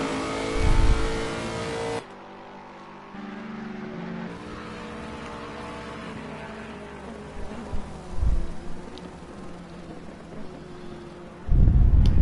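GT3 race car in a Monza racing game accelerating out of Ascari, a loud engine roar that drops at about two seconds into a steadier, quieter drone with a few faint bumps, then surges loud again at the end.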